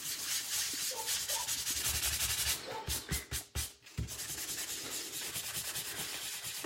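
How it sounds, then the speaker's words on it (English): A sanding block rubs back and forth over an embossed card in quick, steady scratchy strokes, close up, with a brief pause of slower strokes midway. "If you take a sanding block and if you just run over it"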